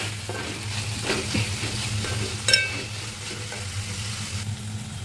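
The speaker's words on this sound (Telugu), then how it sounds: "కొంచెం పసుపు, కొంచెం ఉప్పు వేసుకొని ఫ్రై చేసుకోవాలి." Broad beans frying with turmeric and salt give a steady close sizzle, broken by occasional stirring clinks, with a low hum running underneath.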